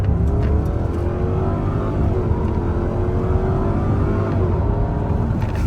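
A Ford Thunderbird's 3.9-litre V8 engine drones loudly and continuously from close range, with a low, throaty rumble that holds fairly steady under light acceleration.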